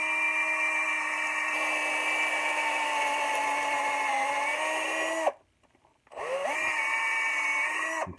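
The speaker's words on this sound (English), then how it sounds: "Okay, so I've drilled a lot of that wedge." A power drill bores into a wooden axe wedge, a loud, steady whine with stable pitch that cuts out briefly near the end, then spins back up and dips under load as it bites into the wood.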